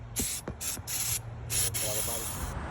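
Short bursts of carburetor cleaner spray hiss onto a carburetor removed from a 1972 VW Bus, several quick close spritzes in an irregular rhythm, fairly quiet with a faint voice in the background.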